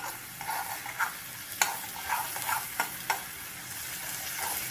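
A spatula stirs an egg broken into a drumstick-flower stir-fry seasoned with pepper powder, scraping against the pan in irregular strokes over a steady low sizzle, close and with no talking.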